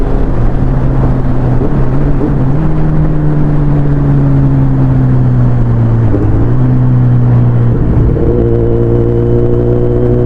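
A Kawasaki Z900 superbike cruising on a highway, its engine droning loud and close with a steady, continuous tone that dips slightly and then rises again as the rider shifts, backed by heavy wind rush throughout.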